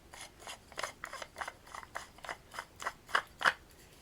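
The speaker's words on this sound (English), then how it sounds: "that motion of screwing that down will actually crush your tablet down" A tablet is crushed in a screw-down pill crusher, giving a run of about a dozen short gritty crunches and scrapes in a steady rhythm that grow louder toward the end, heard close up with no talking.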